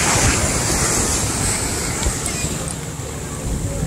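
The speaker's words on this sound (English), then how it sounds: "See the water come up?" Waves washing up on a beach, a steady broadband surf roar mixed with gusty wind buffeting the microphone, close and fairly loud.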